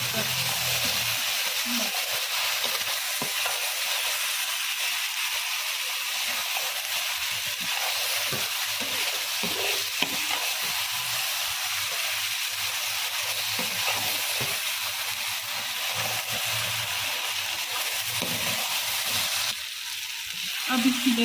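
Okra (bhindi) stir-frying in a pan over a full flame, a steady dense sizzle and hiss with intermittent scraping of the spoon, continuous for the whole stretch with no voices.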